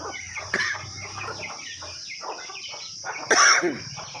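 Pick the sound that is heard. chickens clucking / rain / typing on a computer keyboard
chickens clucking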